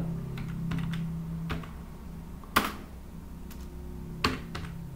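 Keys clatter on a computer keyboard while text is entered in MS Word, a quiet, uneven run of taps with a few sharper, louder strokes standing out.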